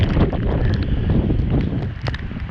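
Strong hurricane wind from Hurricane Ian buffets the microphone in North Port, Florida, a loud, continuous roar with gusty surges and rumbling low-end noise, no talking.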